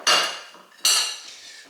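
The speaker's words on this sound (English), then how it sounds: "Grab a knife so I can clean off the spatula." Two quick metallic scrapes of a knife blade dragged across a spatula to clean off bread dough for kaiser rolls, each a bright clinking swipe that trails away, close and distinct with no talk.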